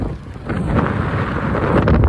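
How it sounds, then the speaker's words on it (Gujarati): Strong gusty wind outdoors near Jafrabad buffets the microphone with a continuous low roar that swells and eases without pause. "પવનનો બહુ અવાજ આવતો કેમ કે પવન છે વધારે"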